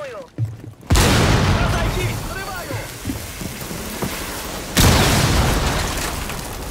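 In Rainbow Six Siege, a wall breach charge goes off with a sudden loud boom followed by crackling, rain-like debris, then a second heavy blast, close and dense under a game-voice chatter.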